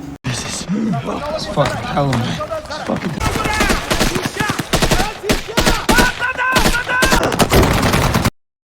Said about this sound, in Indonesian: Mereka terus ditembaki pasukan Taliban.